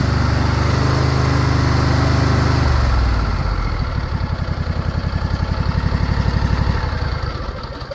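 A Husqvarna riding lawn mower's small engine runs loud and close, holding a steady drone at first, then dropping to a lower, rapidly pulsing chug about halfway through.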